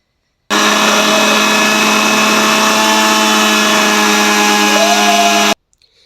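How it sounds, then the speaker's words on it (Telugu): A kitchen mixer grinder blends cooled garlic, onions and tomatoes for a hotel-style masala brinjal curry, a loud steady motor whine running for about five seconds before cutting off abruptly. "ఇప్పుడు వీటన్నిటిని చల్లగా అయ్యాక మనం మిక్సీ జార్లో వేసుకొని మనమైతే మిక్సీ పట్టుకోవాలండి"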